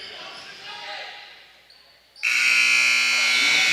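End-of-quarter buzzer at a high school basketball game between the Paris Tigers and Westville Tigers, a loud sustained horn that cuts in sharply after crowd noise and holds steady to the end.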